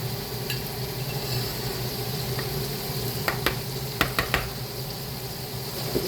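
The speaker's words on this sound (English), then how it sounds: "I ain't trying to scrape my pan, y'all, trust me. Just trying to get them little grains of rice up out of there." Metal spoon scraping buttery rice grains from a cooking pan, a few sharp close scrapes and clicks over a steady background hiss.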